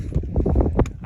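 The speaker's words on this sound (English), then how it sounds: "It's a bit windy" Gusty wind buffets the microphone on a cliffside trail, a short burst of close, low rumbling thumps with no voice over it.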